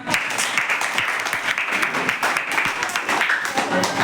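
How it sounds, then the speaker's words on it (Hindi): Applause from a class cheering quiz winners, sustained clapping at fairly strong level with voices talking over it in the room. "फर्स्ट विक्रांत, सेकेंड अंकुश, थर्ड मेहरान। तो ये हमारे फर्स्ट सेकेंड थर्ड हैं। जोरदार तालियां।"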